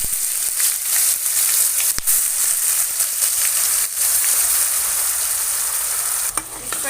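Ginger garlic paste and spices frying in hot oil for a vegetable kurma, with a loud, continuous crackling sizzle and a few sharp knocks of a utensil against the pan.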